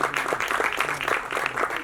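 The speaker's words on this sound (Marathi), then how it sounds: "जोरदार टाळ्या या सगळ्या कलाकारांसाठी" An audience at a Marathi film trailer launch applauds the cast, brisk continuous clapping with a rapid patter throughout and a faint low hum beneath.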